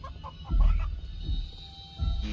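A video game chicken gives a few close, throaty clucks in separate bursts, with a faint crowing note at the start.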